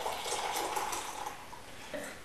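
Tea is poured from a height into a cup, making a steady splashing trickle of liquid that runs throughout at moderate level and trails off near the end.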